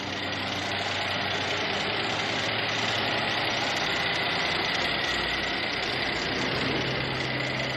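2018 Mercedes-Benz GLS 450 4MATIC engine idling under the open hood, a steady close mechanical hum with light ticking and no pauses or voices.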